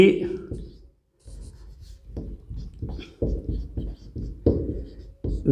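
Chalk or marker strokes from a teacher writing notes on a board during a Hindi-language chemistry lesson on molarity and molality, a series of short scratchy taps mixed in with the teacher's steady talking.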